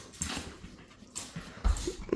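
Puppies whimper and shuffle on a yoga mat, soft intermittent whines and small thumps and pants close by, with a few louder bumps.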